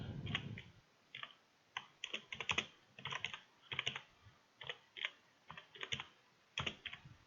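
Steady typing on a computer keyboard while entering data into a spreadsheet, a run of quick close key clicks in uneven bursts with short pauses, no voices.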